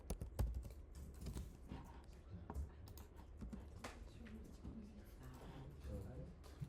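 Quiet typing on a computer keyboard, scattered clicky key presses in irregular bursts with faint room noise and soft speech-like sounds in the background.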